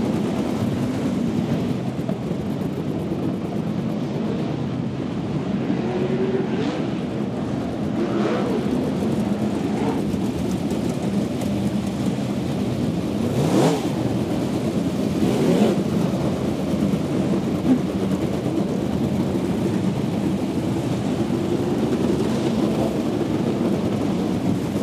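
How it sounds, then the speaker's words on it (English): Race cars lap the Lucas Oil Western Springs Speedway track, a continuous dense roar of engines heard from trackside. Louder swells come as cars pass, and no voices are heard over it. "I'm just watching the cars go around here"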